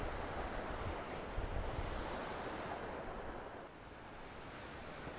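A small waterfall with iron-tinged water pours steadily beside a footbridge near Dave's Falls in Marinette, Wisconsin, a continuous broadband rush that stays fairly even throughout and eases slightly toward the end.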